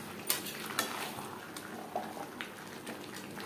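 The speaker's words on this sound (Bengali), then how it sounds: "মাংসের সাথে আলু বেশ ভালো করে মিক্স করে দেবো।" A metal spoon stirs chicken and potatoes in a pot of biryani, scraping and clinking with sharp, intermittent knocks over a soft background sizzle; nearby and fairly quiet.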